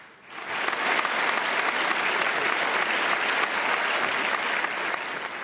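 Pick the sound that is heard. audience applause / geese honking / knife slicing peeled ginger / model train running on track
audience applause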